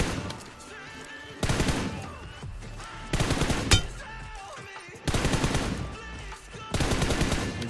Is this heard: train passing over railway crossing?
no